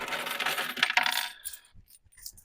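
A handful of collected loose change drops and jingles, a bright metallic clatter of coins that settles into a few faint clinks, close and alone.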